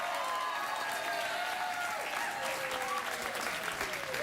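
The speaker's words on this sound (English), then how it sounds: "All that clapping and cheering" A late-night talk show studio audience claps and cheers in a dense, steady roar that stays loud and unbroken throughout.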